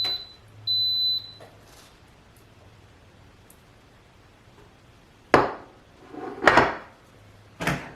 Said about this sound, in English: I'm going to press the saute button, and I'll let that heat up